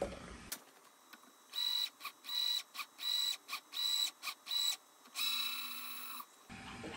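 A tapping arm threading a hole for a DIY fiber laser tube cutting machine, a motor whirring in about eight short bursts with brief pauses between them, ending in a longer run that winds down, with a high tone over each burst.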